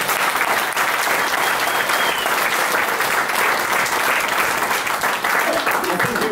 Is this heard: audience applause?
yes